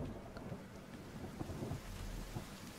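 Rain and rolling thunder in The Forest survival video game, a soft continuous downpour with low rumbling underneath, faint and steady throughout with no talk.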